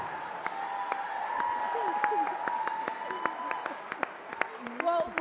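A live audience gives steady, scattered clapping and some cheering at a moderate distance, with a voice talking over it throughout.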